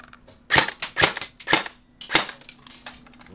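Tokyo Marui AK47 Beta Spetsnaz airsoft gun firing stealth BBs, a quick run of sharp, close snapping shots in uneven bursts, with no talking.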